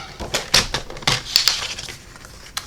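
A paper trimmer slices through a sheet of black cardstock, giving a close run of sharp clicks and crunching scrapes in quick, uneven bursts with no talking.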